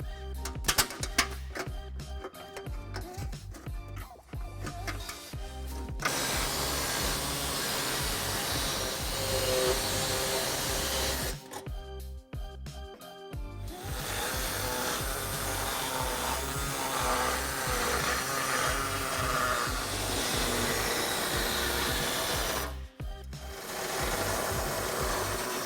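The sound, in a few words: air saw cutting car bumper material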